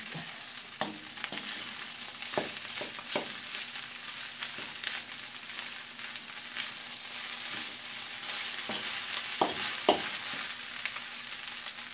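Fried rice sizzles steadily in a hot pan while being stir-fried, with scattered scrapes and clacks of the spatula over a constant close hiss.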